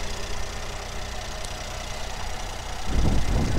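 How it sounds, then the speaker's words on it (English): A 2017 Mercedes-Benz GLS 450 4Matic's naturally aspirated V6 idles smoothly, a steady low engine hum that grows noticeably louder and rougher near the end as if closer or briefly revved. "Here's our naturally aspirated V6 engine."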